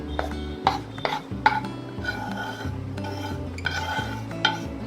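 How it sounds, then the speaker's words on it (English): A spoon scrapes and clinks against a pan while melted jaggery is quickly stirred into a makhana and cashew mixture, several distinct knocks and scrapes in an uneven rhythm, close and clear. "You have to do this little quickly and mix everything really well."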